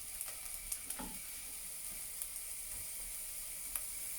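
Bacon sizzles in a pan with softened onions, a faint, steady frying hiss with a few soft clicks and scrapes, no voices over it.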